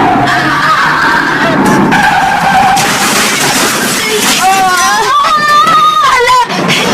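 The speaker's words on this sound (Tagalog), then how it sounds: "Hala, hinaog ang truck sa pagpag." A truck skids and runs off the edge of the road, with a loud, continuous scraping, tire-squeal sound and rising squealing tones near the end, heard over overlapping voices and background commotion.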